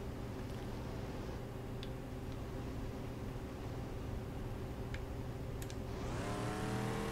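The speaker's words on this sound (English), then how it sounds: "The engine sounds cool." Engine of a drivable vehicle in the Lego Worlds video game, a steady, loud, droning hum that rises in pitch as it accelerates near the end.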